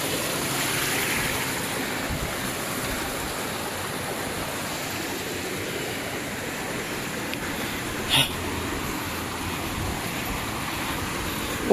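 Sayaw Falls in Aloguinsan, Cebu pours in a steady, broad rushing roar of falling water, constant throughout with one brief knock partway through.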